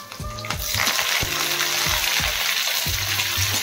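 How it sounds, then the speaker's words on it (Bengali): Curry leaves and slit green chillies hit hot oil for a South Indian rasam. A sudden loud sizzle begins and keeps crackling, broken by soft low thumps of stirring in the pan. "কারি পাতাটাকে একটু ফ্রাই করে"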